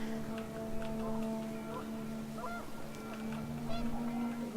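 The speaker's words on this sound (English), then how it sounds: "panicked geese appeared and quickly went" Panicked geese honk and squawk repeatedly in What Remains of Edith Finch, the calls overlapping and scattered over a windy, humming game soundscape.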